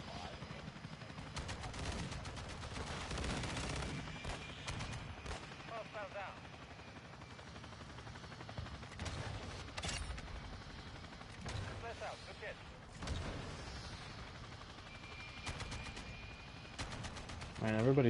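Chopper gunner helicopter firing in an online shooter video game, with repeated bursts of rapid automatic gunfire spread through the clip, fairly quiet and mixed with other game sounds.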